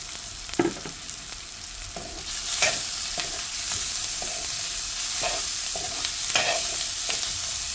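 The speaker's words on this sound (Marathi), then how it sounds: "आता बारीक चिरलेली शिमला मिरची सुद्धा त्यात टाकावी।" Chopped capsicum stirred into a sizzling gram flour (besan) mixture in a pan for shimla mirch besan bhaji, a steady fry crackle broken by repeated scraping strokes of the spoon, with no talking.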